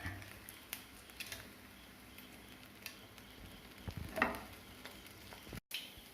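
Mustard seeds and dried chili sizzle softly in hot coconut oil in a pan, a faint steady frying hiss dotted with small scattered pops and ticks, no talk.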